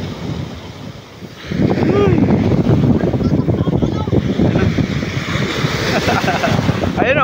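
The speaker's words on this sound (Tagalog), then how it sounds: "Guys, yung sarap ng alon guys dito guys." Storm-driven waves crash at a beach: a quieter first second and a half, then a sudden loud surge of breaking surf and wind noise that continues roaring nearby, with faint voices shouting in the background.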